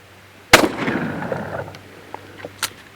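A single sharp blast from the right barrel of an antique English shotgun fired outdoors, loud and close, with a rolling echo trailing off over a couple of seconds.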